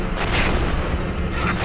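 Tank main gun firing in the Steel Beasts armored combat simulator, a loud, heavy boom with a rumbling tail filling the short moment.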